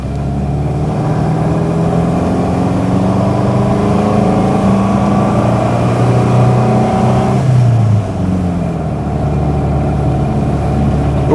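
A Subaru Brumby (BRAT, MV284) car engine hums steadily from inside the cabin while driving, a loud continuous drone with a slight shift in pitch near the end.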